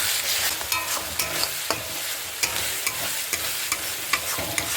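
Cumin and chili powder stirred in hot oil for a mutton biryani, a spoon scraping the pan in repeated clicks over a steady frying sizzle, close and alone.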